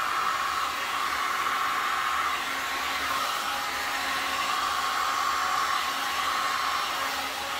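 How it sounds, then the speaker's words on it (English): A hair dryer blows steadily on poured resin paint on an octagon canvas, spreading the colour. The airflow hiss stays loud, close and constant from start to finish with no talking. "I want to blow just a little bit of this color towards that way to kind of fill in the black."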